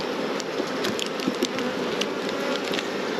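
Honeybees from a strong, crowded hive make a dense, steady buzzing hum close by. It continues without a break, with no talk over it.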